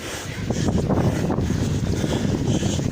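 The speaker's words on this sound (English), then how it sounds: "You might hear the breeze in the effect." A light breeze on a chilly day buffets the microphone, giving a continuous low, rough rushing that stays fairly even throughout, with no speech.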